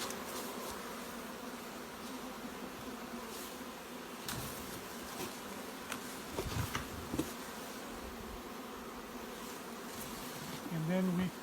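Honeybees swarm around open hive boxes fitted with queen excluders, a dense continuous close buzz with individual bees droning past the microphone and occasional knocks of handling the boxes.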